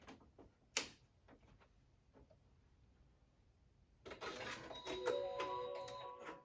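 A sewing machine in a quilting room is switched on, a few faint clicks and a thump, then after a pause a close, steady whirring hum with ticking mechanical noise for the last two seconds.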